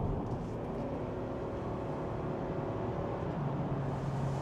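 A 2025 Toyota Camry in sport and manual mode accelerating up a highway on-ramp, heard from inside the cabin as a steady, dense rumble of engine and road noise, with no talk.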